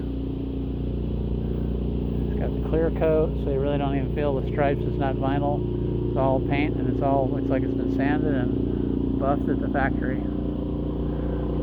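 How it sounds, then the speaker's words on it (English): A generator on a 2012 Forest River Solera 24S Class B+ Mercedes diesel motorhome runs with a constant low droning hum and steady tonal whine, with someone speaking over it throughout. "That noise you hear is the generator."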